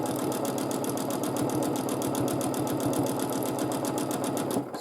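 A sewing machine quilting swirl patterns runs in a fast, even stitching rhythm of rapid mechanical taps, loud and close, continuing steadily before stopping abruptly at the end.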